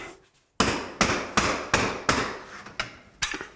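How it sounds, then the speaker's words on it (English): Eight sharp hammer blows driving a metal drywall bar into position, evenly spaced and close, each a bright cracking knock with a short ring-off, after a brief quiet start and no speech. "you can just hammer it off the edge and push it into position"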